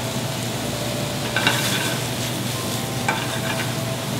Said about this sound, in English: Take all these beautiful mushrooms, throw them into our pan.